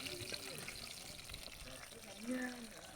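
Fish frying in a pan, Kerala style, a soft steady sizzle and crackle running throughout, faint and low, with a voice talking over it.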